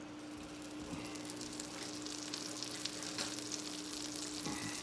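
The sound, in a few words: pat of butter sizzling in preheated crepe pan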